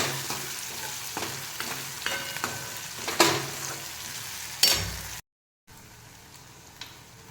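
Onions and curry leaves fry in hot oil, giving a steady crackling sizzle with scattered pops and a few louder stirring scrapes before it suddenly cuts off, then a quieter simmer resumes, with nobody talking.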